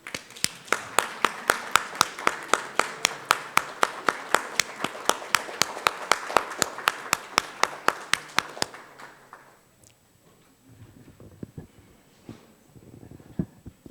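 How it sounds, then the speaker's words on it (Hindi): An audience at an award ceremony claps in a slow, steady, unison rhythm for about nine seconds, loud and close, before the clapping stops and faint room noise remains. "आप सभी लोग खड़े होकर ताली बजाना चाहिए।"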